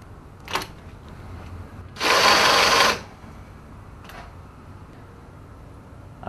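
A powered screwdriver drives a screw into a bracket on a Max S Series cabinet chassis frame: one steady whirring burst of about a second, close and loud, between a couple of light clicks of handling.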